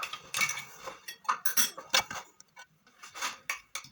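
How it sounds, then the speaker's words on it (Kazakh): A spoon stirring a yeast and sugar mixture in a bowl, a quick run of metallic clinks and scrapes in an uneven rhythm, close and fairly soft with no talk. "Ашытқымызды жақсылап араластырып аламыз."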